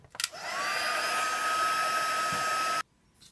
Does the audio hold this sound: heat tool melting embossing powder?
yes